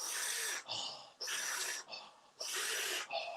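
Intense rhythmic breathing in a breathwork session, with loud, close, forceful airy breaths in repeating in-out cycles of about one per second, heard alone with no talk.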